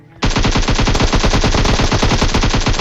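Gunfire in the video game Free Fire as a weapon empties its full magazine, a loud, unbroken rapid burst of automatic shots starting abruptly and continuing close without pause.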